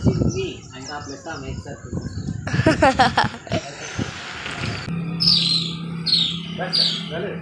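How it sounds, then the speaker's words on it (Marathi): A sparrow chirps at its nest in a run of bright, quick repeated calls, loudest near the end, with people talking nearby and other household noises in between. "चिमणी बघ ना कशी बसली त्या घरट्यात"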